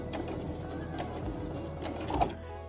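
A sewing machine back stitching elastic onto a cloth face mask runs in short, fairly quiet bursts of rapid needle clatter, close by, with small mechanical clicks and knocks between stretches.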